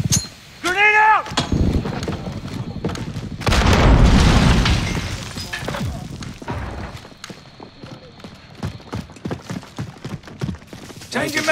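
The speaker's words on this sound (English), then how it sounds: "Grenade out!" A grenade blast in Call of Duty Modern Warfare erupts as a heavy, rumbling boom amid close gunfire and shouted soldier voices, followed by scattered shots and clattering during a team deathmatch firefight.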